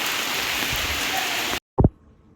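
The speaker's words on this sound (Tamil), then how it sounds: "மழை பெய்யுது ஒன்றுமே பண்ண முடியல எங்களால்" Steady rain falling in a home fruit garden, a dense continuous hiss that is close and loud, then cuts off abruptly and is followed by a brief thump.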